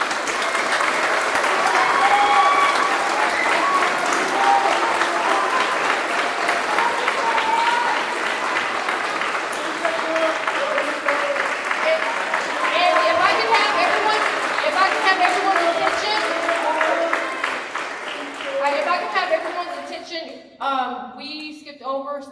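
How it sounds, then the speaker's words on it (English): Sustained applause from a crowd at a JROTC battalion award ceremony honoring the senior class, dense clapping for about twenty seconds that thins out at the end. "please give our senior class of 2026 a big round of applause"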